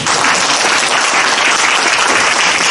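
A workshop audience claps after a presentation, producing dense, even applause that fills the room steadily at close range with no talk over it.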